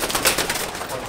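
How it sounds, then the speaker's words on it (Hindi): A pigeon coos softly nearby in a short, throaty burst over light background noise. "कबूतर आ गया"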